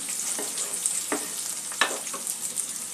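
Onion, ginger and tomato fry in a pan for a katla fish curry, giving a close, steady sizzle broken by a few light stirring scrapes.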